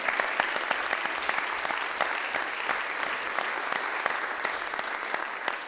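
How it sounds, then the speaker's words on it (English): A hall audience at a CUNY gathering applauds Tepeyac, a loud sustained roll of clapping from many people, dense and steady throughout with no speech on top. "They deserve a round of applause"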